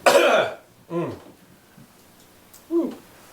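A loud, harsh cough up close, then a couple of quieter throaty hacks and voice sounds spread over the next few seconds.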